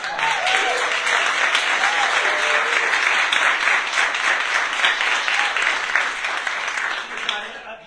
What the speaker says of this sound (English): Can we please give them a round of applause?